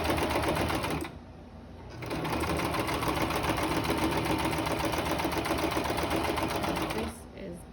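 A sewing machine runs over the multi-layer center seam of a fabric mask in two long, fast, even bursts of rattling stitching, close and loud, with a brief quiet pause between them.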